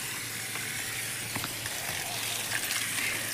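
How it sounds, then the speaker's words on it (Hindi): Water gushing steadily from a running pump motor at a house under construction, a continuous rushing splash with faint voices in the background. "ये पानी भी आ गया है, ये देख।"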